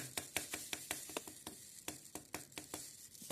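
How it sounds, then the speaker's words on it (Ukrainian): Small vitamin granules are shaken and sprinkled into grain bird feed, giving a rapid series of soft, dry ticking scatters, quiet and close, with a brief lull midway before the sprinkling resumes. "Ось тут вітаміни, трошки їх підсиплю сюди."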